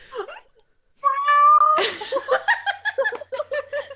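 A cat meows loudly at close range, with a long drawn-out call followed by a string of shorter rhythmic meows, some sounding almost like chuckling.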